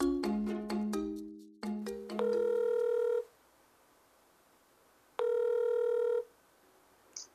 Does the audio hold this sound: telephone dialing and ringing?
yes